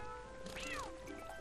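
A cat meows once in The Legend of Zelda: Twilight Princess HD, a short rising-falling cry heard over steady game background sound.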